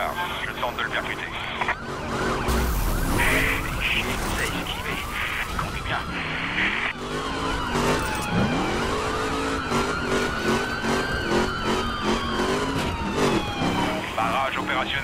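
Wailing police sirens rise and fall over roaring car engines and tire skids in a video game police chase after a Mustang GT in The Crew, with voices talking over radio-like chatter.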